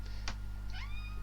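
A pet cat wanting food gives a single drawn-out, rising howling meow, fairly close, over a steady low electrical hum, with a brief sharp click just before it.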